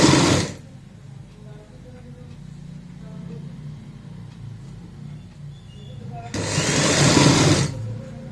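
A sewing machine stitching a frill on a child's frock runs loud and close in two bursts, a short whir at the start and a longer run near the end, with quiet in between.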